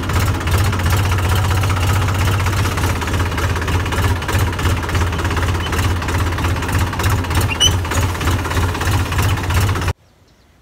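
A tractor engine idles steadily nearby on a farm, a constant low throbbing rumble with a knocking pulse that runs for about ten seconds before cutting off abruptly.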